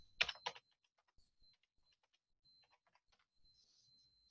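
A computer keyboard clacks in a quiet room, two louder bursts of keystrokes up front, then scattered soft, irregular taps continuing at low volume.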